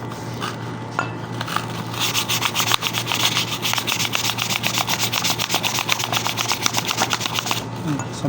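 Steady, rapid rasping of sandpaper rubbed back and forth on wood, loud and close, with a brief quieter start before the strokes build.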